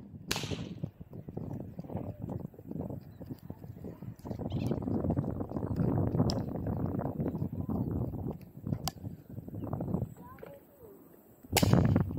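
Several sharp, snappy air rifle shots ring out during an outdoor hunt over steady rustling and low murmuring, with one loud crack near the end.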